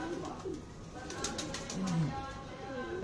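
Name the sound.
pigeon cooing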